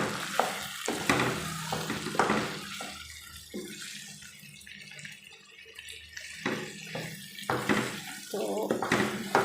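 Spices being stirred and mixed in a pan with a spatula, bursts of scraping and sizzling at the start and end around a quieter stretch of low frying hiss.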